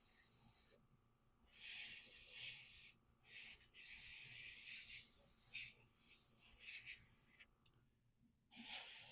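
Airbrush spraying primer onto miniature models in bursts: a loud, steady hiss that starts and stops several times, with short quiet gaps between passes.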